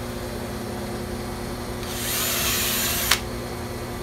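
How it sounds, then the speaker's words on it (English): A power drill bores a hole into a creosote-treated sleeve fitted over a 4x4 fence post, a steady high whine lasting over a second that ends with a sharp click, with a constant low background hum around it. "Got to drill the hole first"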